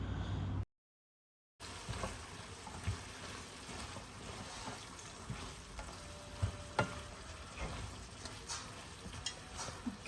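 Onions, colored peppers and hot peppers fry in a pan for Libyan meat dish, a faint, steady sizzle with a few soft stirring sounds after a brief silent break.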